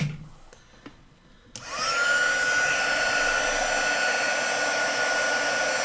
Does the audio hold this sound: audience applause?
no